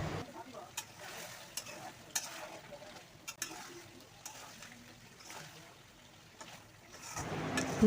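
Chicken pieces with spices being stirred in a covered pot for a potato chicken curry, giving a low steady sizzle broken by scattered spoon scrapes and clinks, close by and moderately quiet, with no talking.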